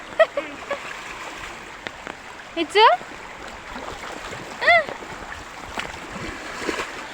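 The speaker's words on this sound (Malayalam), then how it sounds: "സ്കൂളിൽ പോകാണ്ട് കുട്ടികളെല്ലാം വെള്ളത്തിൽ കളിയാണ്" Children splash and play in floodwater by a house, with irregular splashes and water movement heard alongside chirpy voices and shouts, a few louder bursts standing out over the background.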